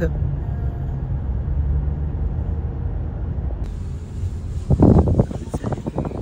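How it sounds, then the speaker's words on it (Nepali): Steady wind buffets the microphone with a low rumble throughout, joined by louder gusty bursts near the end. "कस्तो हावा चलेको"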